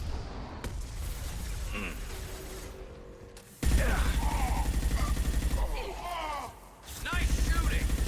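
Gunfire in the Mass Effect video game sounds as rapid, repeated mechanical bursts of shots, loud and rhythmic. Brief gaps and shifts break the firing, and game dialogue is mixed in.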